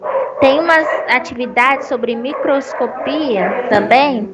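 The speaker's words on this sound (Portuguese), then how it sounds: "Desculpa pelo barulho dos cachorros latindo." Household dogs yip and bark in short repeated bursts, mixed in under a person talking close by throughout.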